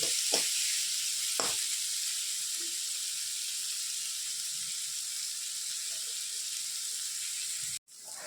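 Vegetables for veg chowmein fry in a pan with a steady, close hissing sizzle, a couple of stirring knocks early on and a sharp clunk near the end.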